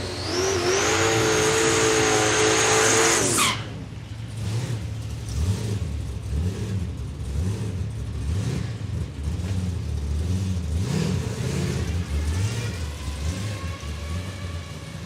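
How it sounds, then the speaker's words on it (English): A 1956 Chevrolet drag car thunders down the strip at Palmyra Raceway in Australia, its loud engine roar swelling and dipping in wavering pulses as it pulls away, with no voices over it. "watching the big 56 Chev head down the track"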